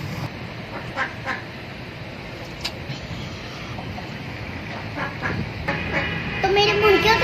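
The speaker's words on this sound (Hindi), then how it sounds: "देखा मेरी बतख मेरे पास आई है चलती हुई।" A few scattered quacks from a walking duck sound over a noisy background with traffic-like rumble and people talking.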